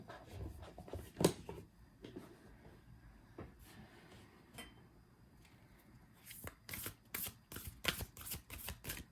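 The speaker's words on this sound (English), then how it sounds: "Let me pull some animal oracles." Animal oracle cards shuffled and pulled in a quiet room, with soft papery riffles and flicks early on, then a busier run of crisp card snaps and slides near the end, all close and fairly faint.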